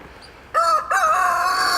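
A backyard rooster due for the freezer crows once, close and loud, a short cock-a-doodle-doo after a brief quiet lead-in.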